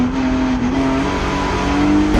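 A touring race car in a Queensland Touring Car Championship race spins off the asphalt onto grass on a corner exit, heard as a loud, sustained engine drone with a steady pitch and no voices over it.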